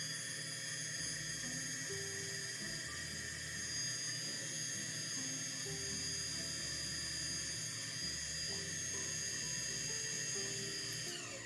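A Starseeker Edge 63 coffee grinder grinding beans, heard close and alone as a steady high-pitched motor whine with a low, pulsing grind underneath.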